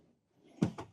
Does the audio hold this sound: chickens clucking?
no